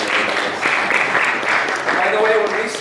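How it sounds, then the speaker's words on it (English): Audience applause for a group of girls at a presentation about young people starting businesses, a dense steady clatter of many hands lasting a few seconds, with a voice briefly audible over it. "Round of applause for the girls"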